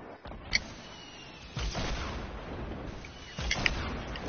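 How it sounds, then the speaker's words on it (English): Grenade explosions during a multiplayer shooter video game sound as two heavy booming blasts with rumbling tails, plus a sharp earlier pop over a steady low background. "Who's firing grenades?"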